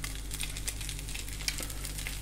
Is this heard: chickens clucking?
no